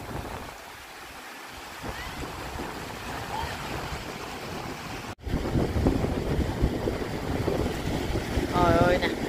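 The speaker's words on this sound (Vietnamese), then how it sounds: "gió ở ngoài nó đẩy vô rồi nè" Wind gusts across the beach at Trouville-sur-Mer in Normandy, France, as a steady broadband rush that swells louder partway through, with surf and faint voices mixed in underneath.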